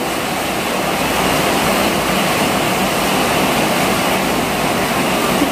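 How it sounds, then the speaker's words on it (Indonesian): Heavy rain pours in a steady, dense roar, loud and unbroken throughout with no voices. "ini hujannya besar lagi"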